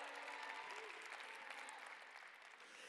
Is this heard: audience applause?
yes